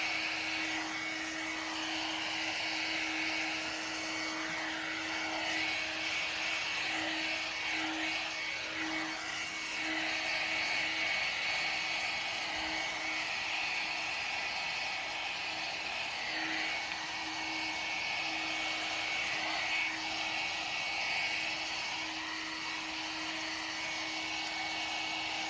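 A 3-in-1 hair dryer blowing steadily at full power, a loud even whoosh with a constant motor whine and no pauses.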